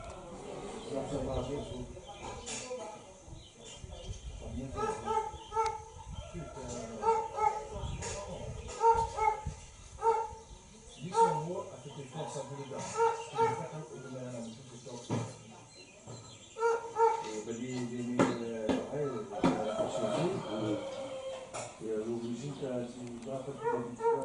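Hunting dogs bark repeatedly during a bow hunt on a domain at Saint-Benoît, Réunion. There are irregular barks and yips, some whimpering, at mid distance under frequent talking voices and some faint bird sounds.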